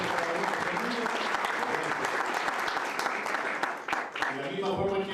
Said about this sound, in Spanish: quiero que le demos un aplauso a todos los patrocinadores